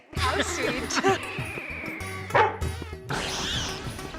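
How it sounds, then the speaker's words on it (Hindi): A dog barks and yips repeatedly up close, with voices talking over and between the barks. "नहीं शेरू, इनको देख के भौंक क्यों रहा है?"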